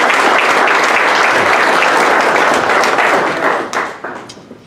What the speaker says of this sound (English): Please give a warm round of applause for Andrew Robeson of Hahnville High School.